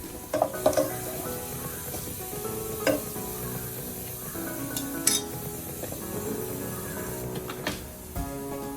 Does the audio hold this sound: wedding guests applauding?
no